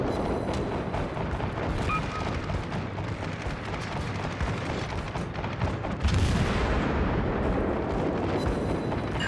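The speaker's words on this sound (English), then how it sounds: "I keep firing." Naval guns of an Omaha-class cruiser fire in World of Warships, a dense, continuous barrage of heavy booms and rumbling blasts that stays loud throughout and swells near the end.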